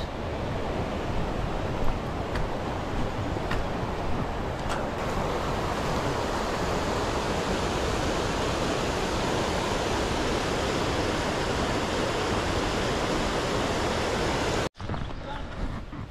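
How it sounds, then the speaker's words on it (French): Continuous rushing roar of mountain waterfalls pouring into a stream in Ariège, France, loud and close, holding steady before a brief cut near the end. "Regardez un peu toutes ces cascades qui se jettent dans le ruisseau."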